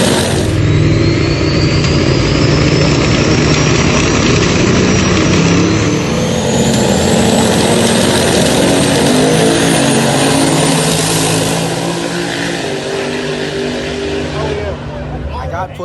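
A heavily boosted, tuned turbocharged truck engine screams at a no-prep drag race, its loud whining pitch climbing steadily and then again in a second sweep, with crowd noise and talk under the roar.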